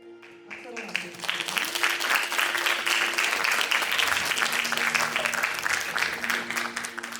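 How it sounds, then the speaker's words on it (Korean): Steady, dense audience applause at a completion and award ceremony fills the room for several seconds, with a voice speaking over it at the start. "박수로 맞춰주세요."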